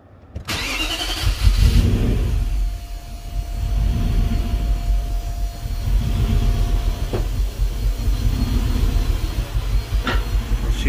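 A Nissan Navara D40 with a swapped-in V8 cranks and fires after an engine change, a loud close start that catches, revs, then settles into a rough, steady idle.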